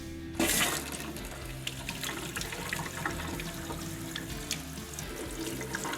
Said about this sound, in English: Now let's turn the water on